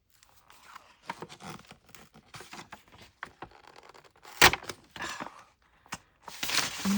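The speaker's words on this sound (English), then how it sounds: "I'll just tear it." Paper being torn by hand for a flip-flop journal craft, close and quiet, with scattered short rips, crinkles and handling taps, including a few sharper louder tears toward the end.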